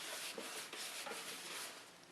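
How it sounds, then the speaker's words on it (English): Surface rust is wiped and rubbed off engine metal during prep, a continuous close scrubbing hiss with slight rhythmic strokes, fairly quiet and heard alone. "see how it starts to wipe off that surface rust, the oxidation that sits on the surface"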